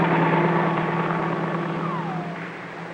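A helicopter flies overhead with a loud, continuous rotor and engine drone that fades slightly over three seconds, with no talk.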